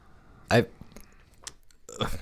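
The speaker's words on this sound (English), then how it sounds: "Sorry, burp. I burped." A short, low, guttural burp near the start, followed by quiet clicks and a brief voice at the end.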